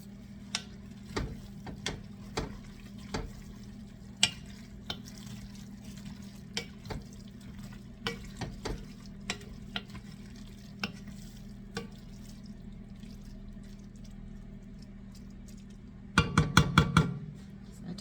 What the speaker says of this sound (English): they want us to stir this around